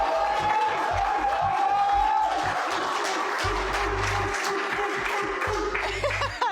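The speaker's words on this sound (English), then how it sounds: "for John, let's get a round of applause" A game-show audience gives John a round of applause, lively clapping with some cheering and chuckles, mixed with talk and a brief tone near the start.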